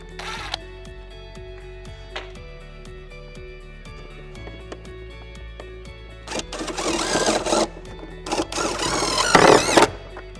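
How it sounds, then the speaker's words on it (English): Tech screws driven into a Ford Transit Custom tailgate with a power driver, a few short whirring bursts and then longer, louder buzzing runs near the end, close by, over a steady low hum with light clicks. "Using the fixings provided, we're going to put 2 tech screws in the bottom here."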